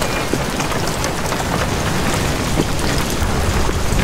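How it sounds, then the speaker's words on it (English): Loud, dense rainfall in the video game Amnesia: The Bunker hisses steadily throughout, with scattered heavier drops pattering on surfaces and no voices. "This rain is f***ing loud."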